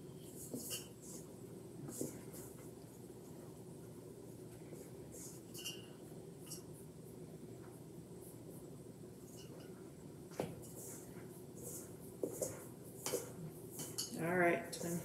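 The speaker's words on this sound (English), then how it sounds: "You're just going to start stirring and stirring and stirring. And start working the pumpkin puree and the cornstarch together." A spoon clinks and scrapes against a bowl while pumpkin puree and cornstarch are stirred together, with soft intermittent taps and a louder cluster of clinks near the end, fairly quiet overall.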